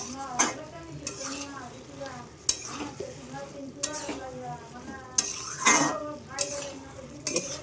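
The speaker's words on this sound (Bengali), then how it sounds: "ভালোভাবে নাড়াচাড়া দিয়ে মিশিয়ে নিয়েছি।" A utensil scrapes and stirs a pan of pui shaak ghonto cooked with a hilsa fish head, soft sizzling underneath and a few sharper clinks of metal against the pan, the scrapes coming in irregular strokes close by.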